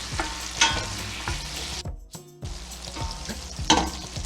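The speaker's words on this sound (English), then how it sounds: "the reason I'm adding the crushed red pepper flakes now, because I wanted to infuse that heat into the oil" Crushed red pepper flakes fry and sizzle steadily in hot butter and salt pork fat for Southern turnip greens, with a few stirring scrapes rising over the continuous crackle and a brief gap midway.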